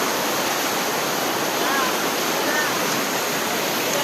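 A river with a strong current rushes below a bridge in mountain country, making a loud, continuous, close roar of churning water with no break.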